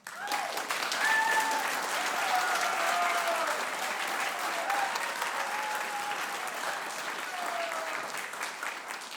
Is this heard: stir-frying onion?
no